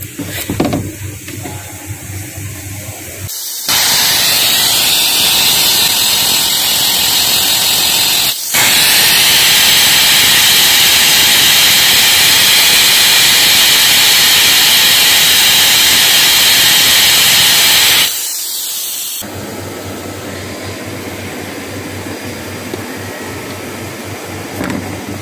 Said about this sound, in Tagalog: Ito yung gun niya, spray gun.